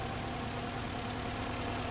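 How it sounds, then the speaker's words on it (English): A car engine idles with a persistent mechanical noise fault still present after a repair attempt, giving a steady, even, broadband hum with a faint whine running through it and no voices. "So the engine is still making the noise, to my disappointment."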